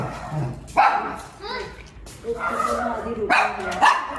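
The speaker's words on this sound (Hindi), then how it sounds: "क्यों भौंक रहा है" A dog barks and yips several times nearby, short sharp bursts spread across the clip, with people talking over and between the barks.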